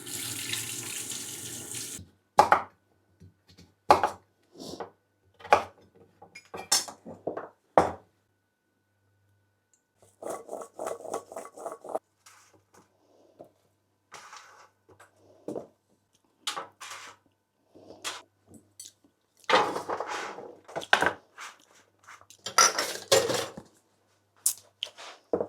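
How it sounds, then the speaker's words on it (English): Sweet potatoes are rinsed under a running kitchen tap, water gushing in a loud burst at first, then in short on-and-off splashes and rubbing sounds at a sink, with no voices. "Just going to wash them, cut them up, season them very simply, roast them."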